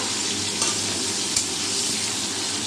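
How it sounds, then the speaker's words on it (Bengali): Potatoes and cauliflower sizzle and fry in a hot pan, a steady hiss with occasional stirring scrapes, no voices. "ফুলকপিটা দিয়ে দিলাম দিয়ে একটু ভাজা ভাজা করে নেবো"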